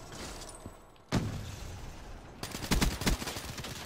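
Rapid bursts of gunfire in a Call of Duty match: a single sharp shot, then a dense volley of several quick shots a few seconds later, loud and close with no talking.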